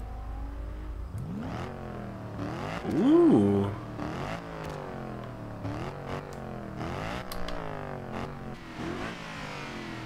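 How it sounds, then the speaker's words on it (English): A 2011 Mercedes-Benz SLS AMG in Forza Horizon 2 revs its engine and exhaust in repeated rising blips with one louder surge early on, close and throaty, and a person briefly exclaims once. "Wow, that exhaust though."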